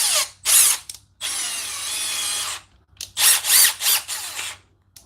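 A compact Milwaukee drill runs in repeated bursts, its chuck and clutch ratcheting with a harsh buzzing clatter, one long sustained run in the middle and several short loud spurts around it.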